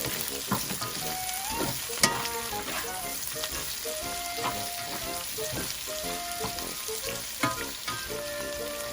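Turkey sausage fries in a pan with onion, sizzling steadily while a spoon stirs and scrapes the pan in irregular knocks, close and fairly quiet.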